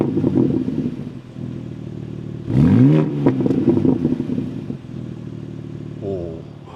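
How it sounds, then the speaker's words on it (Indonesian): A BMW M2 with a quad exhaust revs up in a short burst with a rising growl, settling back to a rumbling idle; brief voices murmur under it. "di belakang ada 4 buah knalpot yang suaranya kayak gini."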